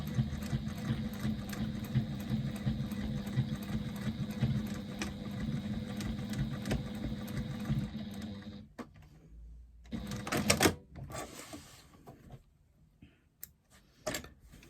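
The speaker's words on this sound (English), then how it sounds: "Just doing a couple of back stitches at the beginning to secure my stitching." A sewing machine stitches a bag pocket at a 1/8-inch seam allowance, starting with a few back stitches. Its rapid, steady whirring runs close and loud for about nine seconds, then stops, leaving scattered handling clicks and rustles.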